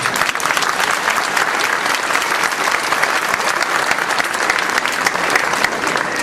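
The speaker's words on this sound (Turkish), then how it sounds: "Alkış." Steady, loud applause from a large audience, continuous dense clapping throughout with no talking.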